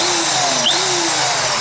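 A steady, loud Makita corded hammer drill whirs continuously, its motor tone holding level with a brief pitch shift midway.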